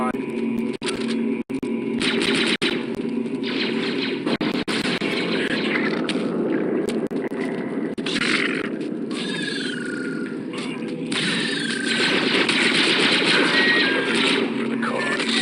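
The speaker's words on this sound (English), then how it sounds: "I'm shooting, boss" Blaster fire from clone commandos in the Star Wars Republic Commando video game, loud bursts layered over dense battle noise and radio-style squad chatter throughout.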